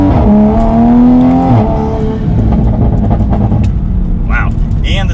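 A Toyota Supra's engine rises in pitch as the car accelerates from inside the cabin, loud and near, with a gear change midway and continuing engine drone under passing road noise.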